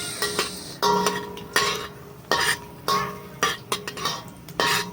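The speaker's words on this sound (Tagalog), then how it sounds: "Lagyan natin ang ating luya. Ating mekos-mekos." Ginger stirred in hot oil in a pan for adobong chicken feet: repeated scraping strokes of a metal utensil against the pan with light clinks, steady and close, and a faint sizzle beneath, no speech.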